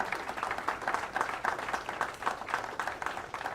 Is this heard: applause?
yes